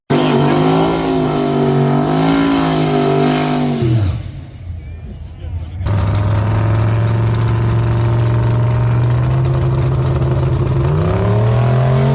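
Drag racing cars roar down the strip at Byron Dragway, one car's smoking run heard as loud, rising engine tones, then a brief lull before another car's engine thunders in close and sustained.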